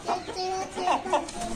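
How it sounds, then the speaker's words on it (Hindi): A hen clucking in short bursts at close range, several clucks in a row over a low background. "माशाल्लाह से शेखू हमारा खुल चुका हुआ और साथ इसकी मुर्गी भी है"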